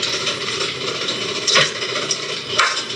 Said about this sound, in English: this is our main pleating machine, or one of the ones that we use the most